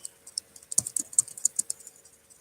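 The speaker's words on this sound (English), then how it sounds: "so I'm not typing it all the time" Typing on a computer keyboard: a brisk, irregular run of light key clicks, close and fairly quiet, with no talking.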